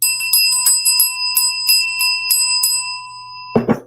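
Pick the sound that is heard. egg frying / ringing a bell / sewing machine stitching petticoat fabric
ringing a bell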